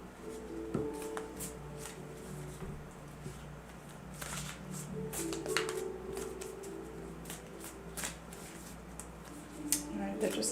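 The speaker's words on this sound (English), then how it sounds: "They're just having me continue to shuffle these." A deck of oracle cards is shuffled by hand, giving a run of soft, irregular riffling clicks and papery flutters that go on steadily at close range for several seconds in a quiet room.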